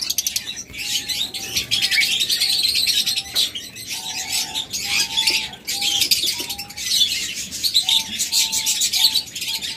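Close-rung aviary birds in a cage chirp and twitter continuously, a dense chorus of bright overlapping calls with short repeated whistled notes, fairly near and steady throughout.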